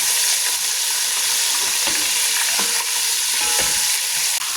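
Fish fillet frying in a pan, giving a dense, bright, continuous sizzle that stays loud and even throughout, with faint crackles and no talking.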